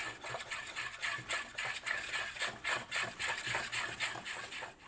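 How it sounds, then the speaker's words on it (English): A whisk scrapes rhythmically through melted butter and flour in a pan for a béchamel sauce, quick repeated rasping strokes at an even pace, close but quiet, with no talking. "And we whisk."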